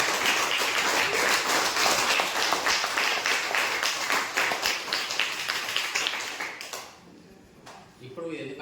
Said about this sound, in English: Please claps.